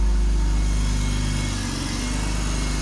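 A 2000 BMW 528i with a custom exhaust idles with a deep, throaty exhaust rumble, steady and close, running smoothly without revving.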